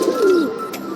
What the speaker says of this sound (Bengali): আফসান কবুতর যেগুলো বলে, আফসান সবুজ গলা